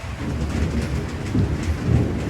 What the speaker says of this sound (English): I don't know if you guys can hear the rain and the thunder and everything, but the weather has not been nice